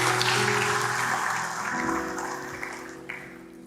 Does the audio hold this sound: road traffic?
no